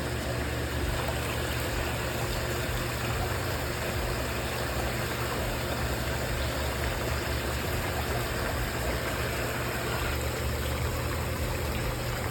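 Hot tub jets running with all jets open, a steady loud broadband rush of churning water and pump hum continuing without pause, with no talking.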